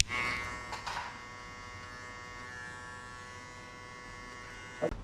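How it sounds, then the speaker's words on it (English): Electric hair clipper buzzing steadily through a mid drop fade haircut, a continuous close hum with brief louder bursts near the start and end as the blade works the hair. "Now close the clipper halfway and break only this line."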